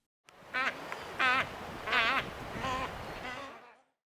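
Albatross calling in a series of about five harsh, nasal, braying honks, each with a rising-falling warble, evenly spaced and close, with no talk.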